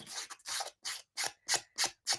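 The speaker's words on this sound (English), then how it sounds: "with our emery board again, we could go down the edges and make it look a little bit more obvious" An emery board sanding the edges of two-tone cardstock, about eight short, close rasping strokes in a steady back-and-forth rhythm, with no voices.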